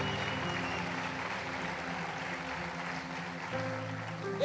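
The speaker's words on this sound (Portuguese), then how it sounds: "Isso é para aplaudir a Paulo de direito, irmãozão." A church congregation claps during a sermon, a steady, fairly soft wash of applause that holds evenly for several seconds with no speech over it.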